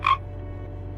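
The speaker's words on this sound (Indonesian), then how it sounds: "itu pasti kodok" A single short frog croak near the start, loud and close, fading into a steady low hum of night ambience, no voices.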